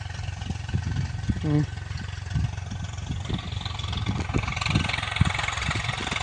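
A tractor engine drones steadily as it works a rotavator in a farm field, a continuous mid-pitched rumble heard at some distance, with a voice speaking over it.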